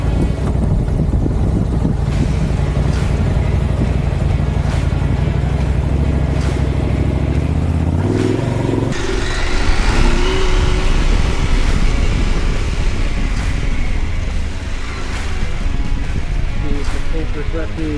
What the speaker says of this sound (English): It rides like a much smaller bike when you're off-road.